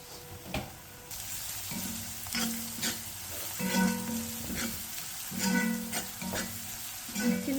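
Garlic and turmeric fry in a pan for a home-cooked curry, a steady close sizzle broken by repeated scraping stirs and a few sharp clanks of the spoon against the pan.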